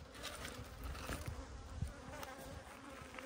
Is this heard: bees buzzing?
yes